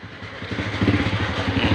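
Motorcycle engine in a parking area in Trece Martires, Cavite, a moderate, steadily pulsing putter that grows slightly louder over a couple of seconds.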